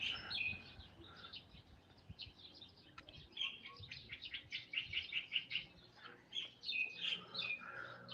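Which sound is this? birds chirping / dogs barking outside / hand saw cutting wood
birds chirping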